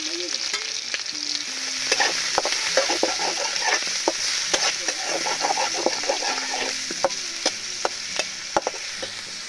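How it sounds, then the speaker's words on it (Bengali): Onions and green chillies frying in hot oil for pasta, a steady loud sizzle with frequent sharp pops and crackles and stirring scrapes throughout. "এবার তেলের ভিতরে পেঁয়াজ দিয়ে দেওয়া হচ্ছে"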